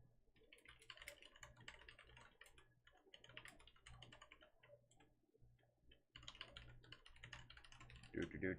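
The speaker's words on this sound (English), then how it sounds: "Loud typing." Fast, clattering keystrokes on a computer keyboard, irregular bursts of clicks with short pauses, ending in a few heavier taps.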